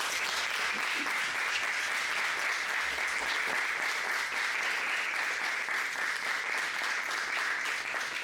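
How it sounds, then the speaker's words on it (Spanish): Sustained applause from a crowd, steady and dense throughout, loud and continuous with no pauses. "así que un aplauso por favor"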